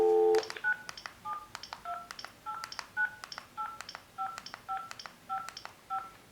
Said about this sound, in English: and then go ahead and dial the number.